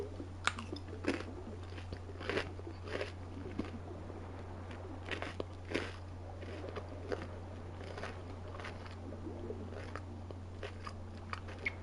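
Close, crunchy chewing of fries and chicken strips, repeated sharp bites and crunches in an irregular rhythm over a steady low hum, without talking.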